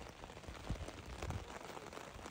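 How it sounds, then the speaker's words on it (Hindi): Heavy rain pours down steadily at Nathia Gali, a dense hiss of drops hitting surfaces, with occasional nearby thumps and no talking. "बहुत तेज बारिश हो रही है यहाँ पे।"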